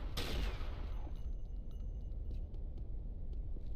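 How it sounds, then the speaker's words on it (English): In Unreal Tournament 99, a flak cannon booms close and loud, and its blast decays into a rumbling explosive tail with faint clicks following. "Don't want to get too close to that flak cannon."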